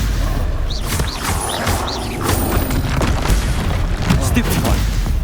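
Stupefy spells fly in a Hogwarts Legacy fight: booming magical blasts and crashing impacts over a steady loud roar of combat. Whooshing chirps and vocal-like sounds from the game mix in throughout.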